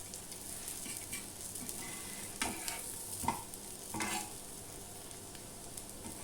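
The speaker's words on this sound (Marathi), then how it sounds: "आता परतून घेऊया आपण दुसऱ्या बाजूने" Moringa leaf dangar being turned in a pan to cook the other side, giving a soft, steady sizzle of frying punctuated by a few scraping stirs of a utensil against the pan.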